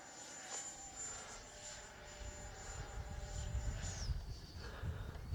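An FMS Futura V3 RC model airplane flies overhead on a bright sunny day, a thin high electric whine holding steady then dropping in pitch as it passes, over wind rumble.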